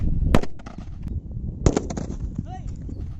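Colourful firecrackers burst inside a bottle outdoors: two sharp, loud cracks about a second apart, then crackling pops and a short rising whistle, with voices talking between the blasts.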